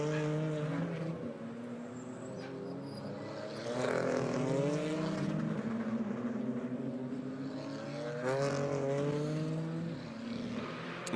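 A DTM Trophy race car at the Red Bull Ring running off the circuit, its engine note rising and falling in sweeping pitch changes, heard at moderate distance with a second surge near the end.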